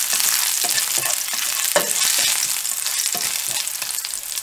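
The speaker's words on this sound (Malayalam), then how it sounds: "പച്ചമുളക് ജസ്റ്റ് ഒന്ന് ഇത് നന്നായി ഒന്ന് വഴറ്റി കൊടുക്കാം." Green chillies with garlic sautéing in hot oil for chicken rolls, a dense, loud, steady hiss of frying with light rhythmic stirring taps, close and uninterrupted, no speech.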